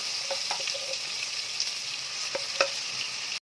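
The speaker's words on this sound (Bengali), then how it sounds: "যতক্ষণ না পেঁয়াজের কাঁচা গন্ধটা না যাচ্ছে ততক্ষণ আমি পেঁয়াজটাকে ভেজে নিচ্ছি ভালো করে" Onions frying in hot oil with whole cumin seeds for a Bengali aloo dum give a steady, close sizzle, broken by a few light clicks of stirring, with no talking.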